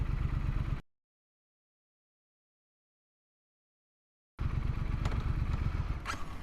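Steady engine drone of a Triume Scrambler 900 motorcycle being ridden, close and loud, cutting out for a few seconds of silence before resuming with the same throbbing exhaust note.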